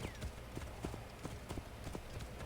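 Horse hooves clip-clopping in Assassin's Creed Origins, a quick even rhythm of hoof strikes heard up close and steady throughout.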